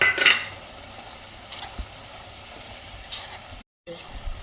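Mixed vegetables for momo stuffing are sautéed in a pan, giving a soft, steady sizzle with a few scattered spatula scrapes and clinks against the metal, mostly without talk.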